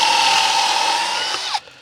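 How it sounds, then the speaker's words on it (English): A power drill drives a pocket hole screw into wood using a small portable Kreg pocket hole jig, one loud steady whirring burst that winds down and stops abruptly. "So I just have my little portable Craig pocket hole jig right here. We're just gonna screw those in."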